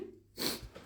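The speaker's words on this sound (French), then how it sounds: "je crois que je vais éternuer." A single quick, soft sneeze, short and breathy, with faint room noise around it.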